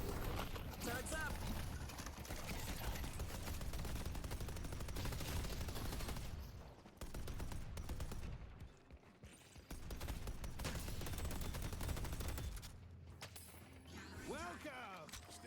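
Video game turret gunfire rattles in dense, continuous bursts layered with mechanical clatter and other game noise, pausing briefly before resuming loud and close.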